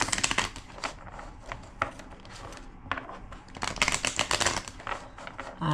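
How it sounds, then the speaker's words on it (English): A deck of cards is shuffled, making a few quiet bursts of crisp riffling clatter with brief pauses between them. "Two more shuffles."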